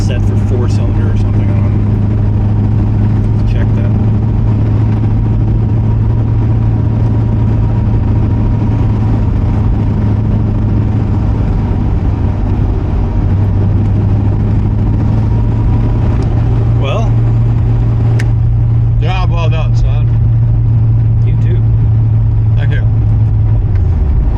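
Steady low engine drone from a 1977 Camaro Z28 on its first drive, a constant mid-volume rumble with road noise inside the car, as people talk over it throughout.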